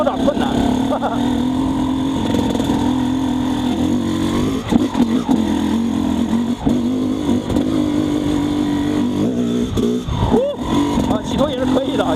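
An XTNG GEN3+ 36 motorcycle ridden in second gear without the clutch, a steady loud engine drone with rising and falling revs throughout while a rider talks over it.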